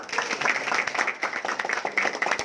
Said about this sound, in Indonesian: Tepuk tangan dulu untuk Glance